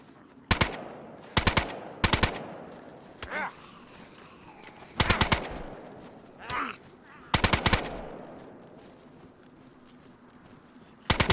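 Rapid automatic gunfire in the winter survival video game DayZ, several loud sharp bursts fired against zombies, spaced a second or two apart with short pauses between volleys.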